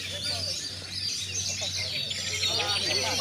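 Overlapping songbird chirps and warbles carry through a lively bird singing contest drawing entrants from North Sumatra and Aceh, with a steady low hum and voices talking beneath the birds.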